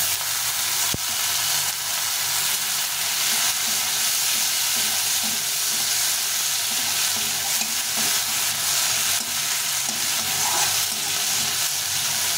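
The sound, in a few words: chopped tomatoes frying with ginger in a pan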